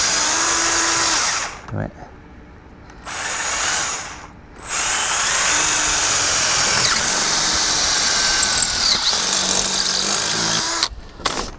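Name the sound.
power drill boring a hole through fencing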